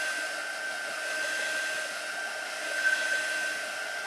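A heat tool used for heat-setting embossing blows a steady, moderately quiet whir for several seconds without pause. No one talks over it.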